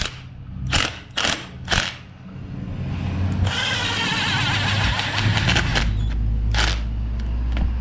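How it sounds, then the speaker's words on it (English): Pneumatic impact wrench running up bolts on a Honda Civic during a power steering delete build, a few short sharp bursts followed by a long sustained rattling whir, loud and close with no talking. "I'm gonna go ahead and use the impact."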